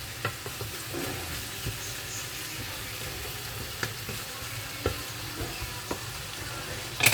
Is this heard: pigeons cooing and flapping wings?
no